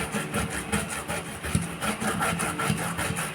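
Cassava is grated by hand in a rhythmic, scratchy back-and-forth rasping that sounds close and continuous, with no one talking.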